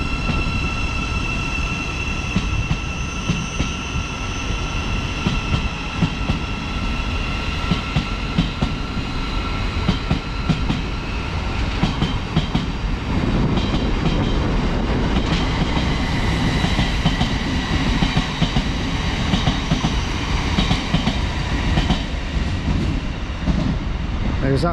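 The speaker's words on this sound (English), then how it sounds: "That's 1313 to Brighton from Bedford. See that one go out in a minute." Thameslink Class 700 electric train pulling out of Luton station, a steady loud rumble and rising hum of traction motors with rolling wheel noise heard from the platform for the whole stretch.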